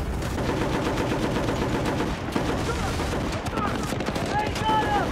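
Heavy .50 cal machine gun fire in Battlefield: Bad Company, loud, dense and continuous bursts filling the scene, with other battle noise and voices underneath.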